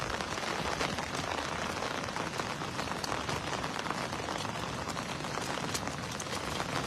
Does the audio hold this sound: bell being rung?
no